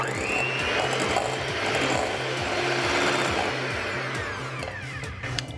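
An electric hand mixer beating no-bake cheesecake filling in a bowl, a loud continuous whirring drone with a rhythmic pulsing as the beaters circle, close and steady throughout.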